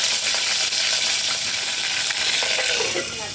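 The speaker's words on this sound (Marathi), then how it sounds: "प्रथम मी तेल टाकते कारण आता मला फ्राय करायचं आहे." Eggplant slices, first soaked in salt water, frying in hot oil over a wood-fired chulha, a loud continuous close sizzle with faint scraping and no talk.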